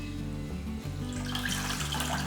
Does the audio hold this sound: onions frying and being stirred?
no